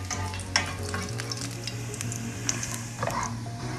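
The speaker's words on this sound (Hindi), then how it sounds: "लहसुन को हम थोड़ा सा लाइट ब्राउन कर लेंगे सबसे पहले।" Garlic lightly browning in a pan as the base for a sizzler sauce, giving a steady close sizzle and frying crackle with occasional stirring scrapes, without any talk.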